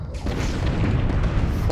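A deep, continuous booming rumble of torpedo fire and explosions in the Star Trek: Bridge Crew starship game, loud and dense across a brief stretch.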